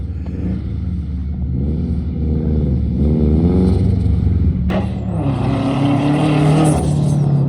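A Nissan Z car's engine roars and revs up and down as it slides around a race track, then a high tire squeal rises and holds over the loud motor.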